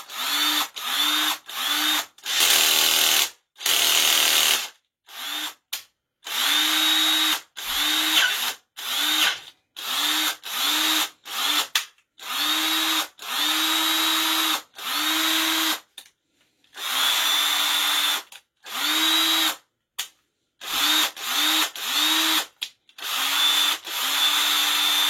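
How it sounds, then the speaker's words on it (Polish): Cordless screwdriver-drill powered by a rebuilt lithium-ion battery pack, whirring loudly in many short bursts of a second or two each, stopping and restarting repeatedly with brief silent gaps between runs. "Teraz wkładam do wkrętarki."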